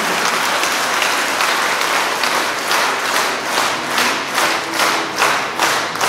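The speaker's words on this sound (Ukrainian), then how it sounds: "Прошу оплесків!" An audience applauds at a school brass band's year-end concert in Krolevets: steady, dense clapping from a large crowd, loud and sustained with a gently pulsing rhythm, and no voices over it.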